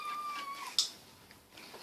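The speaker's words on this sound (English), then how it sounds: "Adorable meow." A domestic cat gives a single short, high meow near the middle, with a faint tonal whine before it and quiet room noise throughout.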